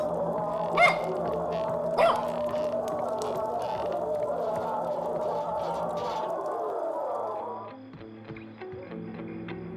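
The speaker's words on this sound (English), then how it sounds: "Wait, there is a dog. A small, yappy one." A small yappy dog barks twice in quick succession in the Thief of Thieves video game, sharp yips rising over a steady ambient game soundtrack, with no one speaking.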